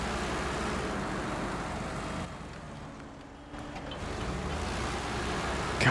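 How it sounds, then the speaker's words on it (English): A video game vehicle's engine drones loudly and steadily, dipping briefly before rising again, with no talking over it. "the engine sound on this thing is just loud"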